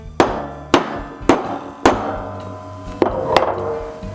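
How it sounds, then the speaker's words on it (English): Six heavy hammer blows strike a Pepe Tools metal disc cutter, sharp and close, with uneven pauses between them and ringing decay after each hit. "then I take a nice heavy hammer and a couple firm hammer"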